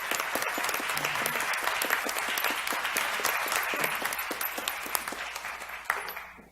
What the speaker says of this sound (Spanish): Aplauso a la doctora